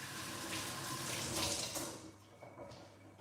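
Tap water runs steadily into a sink while beetroot-stained hands are rinsed, a close hissing splash that fades out near the end.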